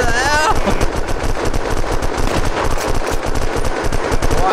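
Sustained rapid automatic gunfire from the survival game Unturned, set in a highway patrol roleplay, loud and continuous with dense rattling shots filling the whole stretch, no talk over it.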